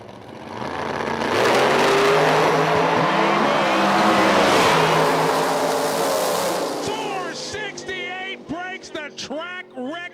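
A Mustang radial drag car makes a full-throttle pass at a drag strip, a loud sustained engine roar that swells, holds and then drops away, followed by scattered chirps and crowd or announcer noise near the end.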